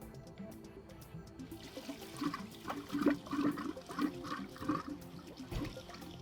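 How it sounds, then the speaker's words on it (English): Water runs from a hose into a whole-house filter tank as the valve opens slowly, a steady gurgling flow that gradually grows louder and more turbulent, with splashing surges near the end. "we're going to slowly turn the water on to allow water into the tank"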